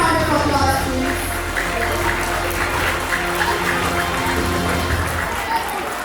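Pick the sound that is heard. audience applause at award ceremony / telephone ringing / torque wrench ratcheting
audience applause at award ceremony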